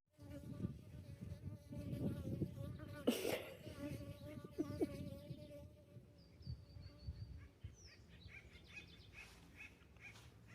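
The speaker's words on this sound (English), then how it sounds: "It's such an annoying bug." A buzzing insect flies around a hiker on the Pacific Crest Trail among oak trees, its faint whine rising and fading in short passes over soft rustling and brief outdoor noises.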